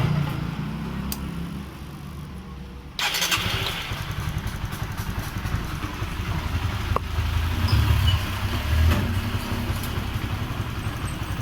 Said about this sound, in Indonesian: Motornya nyala normal